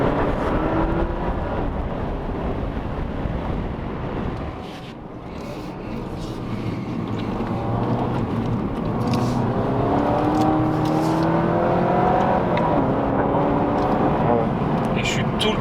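An Alfa Romeo Giulia 200 AT8 Lusso drives along, its engine a steady close drone that dips briefly then swells again as it accelerates, with someone talking over it.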